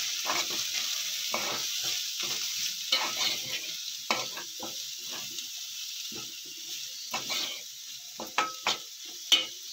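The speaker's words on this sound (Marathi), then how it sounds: "हे जिरं पावडर आणि धना अख्खे धन्याची पावडर केले ते पण घालूया त्यामध्ये. असं मिक्स करून घेऊया." Cumin powder and coriander powder being stirred into a frying pan, a steady sizzle running throughout with scraping strokes of the spoon against the pan, close and alone.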